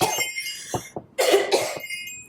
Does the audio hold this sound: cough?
yes